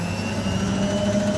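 A Hotpoint 9544w washing machine roars at high speed, a loud, steady mechanical drone with a low hum and constant rattle from its loose cabinet, heard close and without any talking.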